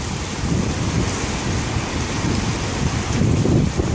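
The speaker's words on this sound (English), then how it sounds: "Oh, here comes the wind." Wind picks up ahead of an approaching cold front in a storm system. A steady, loud roaring rush with gusty swells stays close throughout, with no talk.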